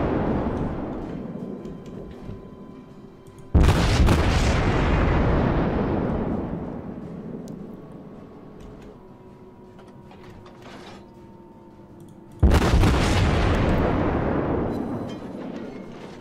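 Naval guns of a Hipper-class cruiser firing in World of Warships, two heavy booming salvos several seconds apart, each with a long rumbling decay, loud and close, no speech.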